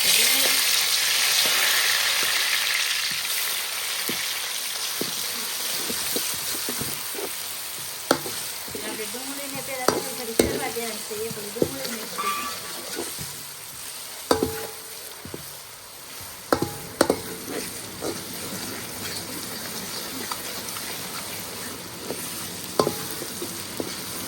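Vegetables hit hot oil for a chicken leg fry: a bright, loud sizzle bursts at the start, then settles into a steadier hiss broken by repeated spatula clicks and scrapes. The sound stays close, with no voices.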